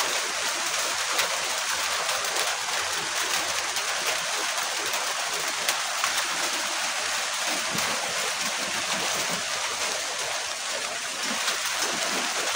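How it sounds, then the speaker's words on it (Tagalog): Heavy rain pours down in a dense, unbroken hiss that stays loud and even from start to finish, filling the space with no pauses and no voices rising above it. "Ang lakas ng ulan."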